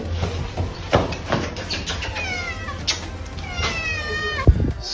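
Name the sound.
cat meowing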